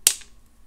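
A single sharp snip of wire cutters trimming excess jewelry wire while making a pendant loop, close and crisp, followed by quiet.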